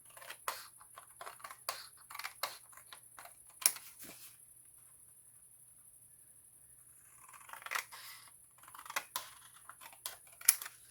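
Scissors snip through paper card along drawn diagonal lines for a scrapbooking mini album, giving quiet, close, crisp cuts in short bursts with a pause in the middle.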